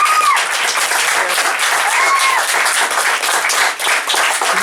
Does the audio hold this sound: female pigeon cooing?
no